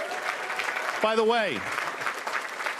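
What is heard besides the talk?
audience applause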